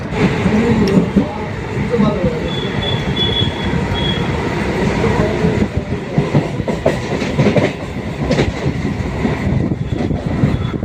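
A Sealdah–Dankuni local train runs loudly near Bally Halt station, with a steady rumble, rhythmic wheel clatter and faint squeals, and voices murmur inside the carriage.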